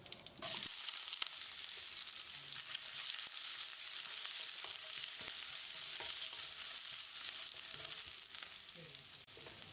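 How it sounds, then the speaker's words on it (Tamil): Sliced onion and chopped green chillies sizzle and fry in a pan with whole spices, a steady crackling sauté that holds evenly throughout with occasional stirring clicks, fairly quiet and close. "இதையும் போட்டு வெங்காயம் லேசாக செவந்து வர்ற அளவுக்கு வதக்கிடலாம்"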